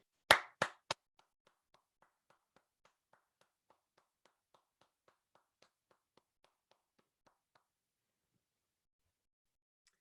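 Three sharp, close hand claps in quick succession at an online graduation ceremony, then a long run of faint, evenly spaced light taps that fade out.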